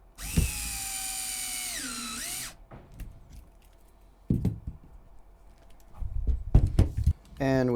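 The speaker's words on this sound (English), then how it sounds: "just getting that screw in" A power drill drives a 20 mm screw into the upper links of an HPI Venture SBK RC build, one loud sustained whir lasting about two seconds that dips in pitch near the end, followed by clicks, handling noises and talk.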